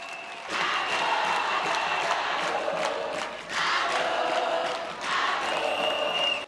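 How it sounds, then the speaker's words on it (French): A large crowd at a women's peace gathering applauds and cheers loudly, surging in waves of clapping and shouting that swell, dip briefly, then rise again before cutting off. "Je vous demande de l'applaudir très fort."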